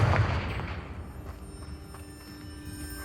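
A Confringo fire spell in Hogwarts Legacy goes off in a single sharp booming blast that decays into a long rumbling tail with a faint ringing hum.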